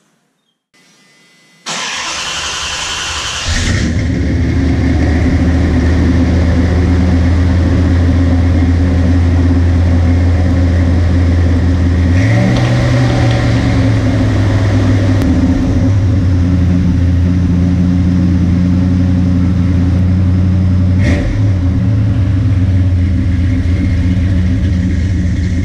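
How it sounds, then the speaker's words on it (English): A Dodge car engine cranks and catches, then runs at a loud, steady high idle that will not drop, with a brief rev midway and a few clicks, close by with no talk. "Heard there was me hitting the gas to take it off high idle, and it not coming off high idle"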